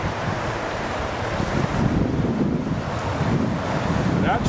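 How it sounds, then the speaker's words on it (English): Wind blows steadily across the microphone beside the McKenzie River, a loud constant rumble and rush with flowing water underneath and no pauses. "there's a fair amount of wind here this afternoon, here on the McKenzie"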